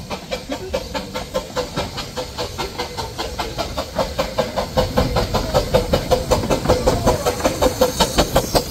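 Riding in a tiny train carriage behind a steam engine that chuffs steadily and rhythmically, with loud, close puffs and a hissing rush that speed up slightly, with no voices.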